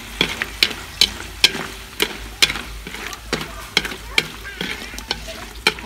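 Banana pieces frying with sugar in hot oil are stirred with a utensil, giving steady sizzling under regular scraping and clinking strokes roughly every half second, close by.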